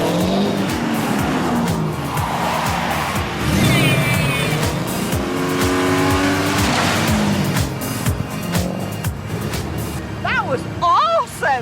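A car lapping a race track at speed, loud engine roar sweeping up and down with tyre squeal and skidding through the corners, constant and close, with people cheering and shouting over it near the end.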